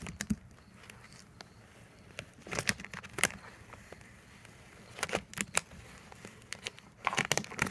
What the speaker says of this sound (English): Peeling at a sharp angle, pressing down with my fingers as I peel.